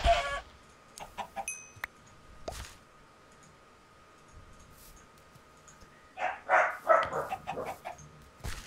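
A dog barks and yips in scattered bursts, mixed with chicken-like clucking sounds, near and intermittent with quieter gaps between.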